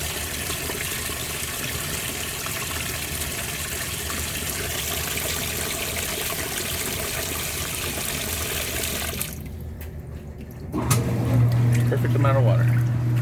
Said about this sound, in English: Just adding more water.